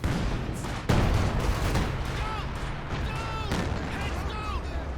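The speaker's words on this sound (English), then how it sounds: "So howitzer fire coming down in the region of the Zis." Howitzer artillery fire rains down in the Company of Heroes 2 war game: a heavy boom, then rumbling blasts and scattered gunfire. The barrage runs continuously through a dense battle din.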